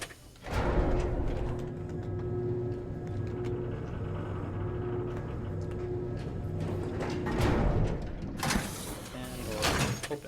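A door-opening mechanism in the Fort Roy video game makes a sustained mechanical hum with a steady tonal drone. Louder sliding bursts come at the start and again near the end, and there is no speech.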